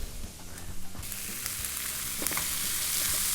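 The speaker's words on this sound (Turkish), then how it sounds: "Ben şimdi bunların içine nohutlarımı ekliyorum." Boiled chickpeas are tipped into onions frying in a pan, and the steady sizzle swells into a louder, denser crackle once they land, continuing close and unbroken.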